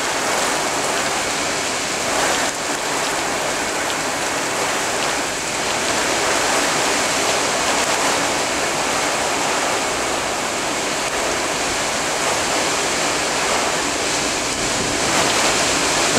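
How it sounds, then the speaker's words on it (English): Strong straight-line winds from a squall line in southwest Wisconsin roar outdoors as a loud, continuous, broadband rush with slight gusting swells and no speech. "look at that wind kicking up"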